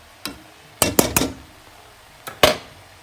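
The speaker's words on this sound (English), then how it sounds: "3 tablespoonfuls of flour, gives them a good old stir" A spoon scrapes and clinks against a cooking pot while flour, miso paste and tomato puree are stirred in, giving a few sharp separate knocks close by with short pauses between them and no talking.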